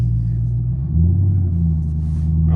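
A 2018 Chevrolet Camaro SS 1LE with a manual clutch nearly stalling as it pulls away: a loud, deep engine drone that sags and lugs in pitch before steadying, with no talking.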